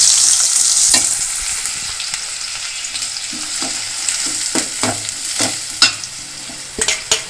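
Chopped garlic and onion sautéing in a pan for a spicy Tamil kaara chutney, with a bright hiss fading after the first second. Repeated clinks and scrapes from stirring grow busier toward the end. No voices.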